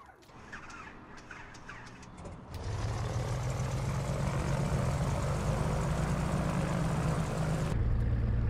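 A Carenado C337 Skymaster's front propeller engine cranks and catches in the MSFS flight simulator, settling into a steady, loud droning hum that holds to the end.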